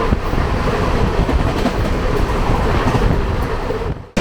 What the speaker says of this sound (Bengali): দুর্গাপুর থেকে আমাদের দিকে ধেয়ে আসছে 12333 বিভূতি এক্সপ্রেস